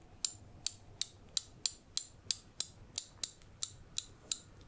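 A tool tightening a lug nut on a kart in a mechanic roleplay gives about a dozen crisp, evenly spaced ratchet-like clicks, close and quiet, with no talking.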